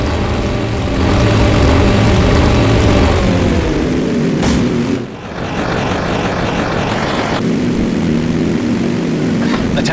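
WWII propeller planes in a Pacific air-combat video game over Iwo Jima, their steady droning engines loud and continuous throughout, with a brief dip in the middle before the roar resumes.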